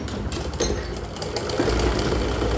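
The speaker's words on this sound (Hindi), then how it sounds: "दोनों साइड इतना ही सिलाई लगूगी" A sewing machine stitching a suit runs in a steady rapid mechanical chatter, close and fairly loud, with a few brief uneven bumps in its rhythm and no talking.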